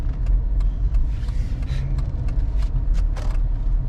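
A Dodge Charger pulls into a parking spot, with a steady, close engine rumble and low road noise throughout and no voices.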